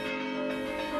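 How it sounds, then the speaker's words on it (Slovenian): A church bell struck directly on its rim with a hand-held clapper rings out in a single sustained, bright metallic tone with rich lingering overtones, close and fairly loud. "To je način, ko primemo kembelj v roko in z njim udarjamo direktno ob obod zvona."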